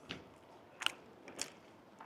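Crunchy bites into a fish-shaped pastry filled with red bean paste, three short crisp crunches spaced across a quiet moment, close and fairly soft with no talking.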